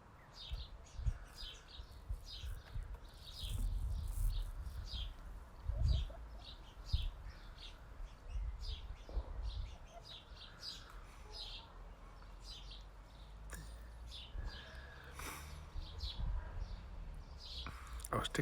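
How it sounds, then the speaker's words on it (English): Soft, quick chicken chirps repeat throughout, close by and fairly quiet, in a garden, with occasional low bumps and rustling in the background. "I can hear you chirping, Gravy."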